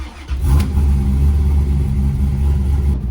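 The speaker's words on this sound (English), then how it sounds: "it idles like it always did, and it didn't like when I put it down to 825" A 1994 Chevrolet Corvette C4 with the LT1 V8 idles steadily up close, a loud, even low rumble that holds for a few seconds after a brief initial swell.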